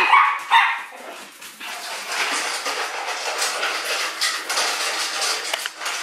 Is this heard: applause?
no